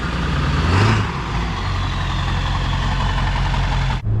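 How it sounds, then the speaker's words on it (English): A truck's engine idles steadily and close by, a low rumbling drone that swells slightly near the start and holds evenly throughout, with a brief dip near the end. "You just leave the truck running all day?"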